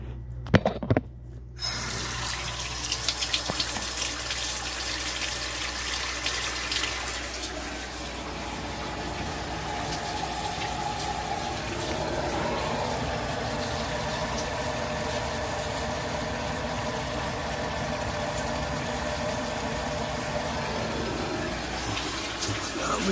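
Water flows steadily through a 1.5-inch tubular sink drain P-trap, a broad continuous rushing gurgle that begins after a brief clatter and holds at a constant level throughout.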